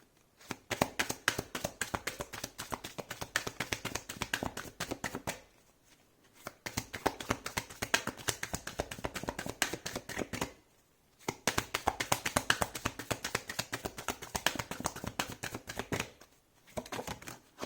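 Tarot cards shuffled and handled in quick, dense bursts of crisp riffling taps, with brief pauses between three long runs, close up and without talk.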